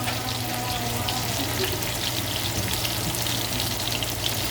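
Garlic and onions sizzle steadily in a hot pan, a continuous even frying hiss at moderate level with no talking.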